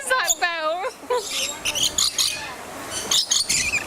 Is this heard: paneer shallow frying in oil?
no